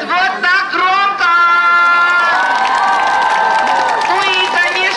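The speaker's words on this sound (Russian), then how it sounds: "Мы вас ждем, мы верим, что вы будете аплодировать вот так громко!" School assembly audience in a hall cheering and clapping loudly, a dense, sustained roar of shouts and whoops with children's voices, steady throughout.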